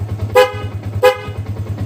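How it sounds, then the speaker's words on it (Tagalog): Two loud blasts from an aftermarket horn on a Sniper 150 motorcycle, each short and bright, sounding close over a steady low idle hum. "loud horn"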